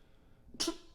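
After a moment of near silence comes a single short, sharp sneeze, a quick breathy burst that is fairly quiet and heard alone indoors.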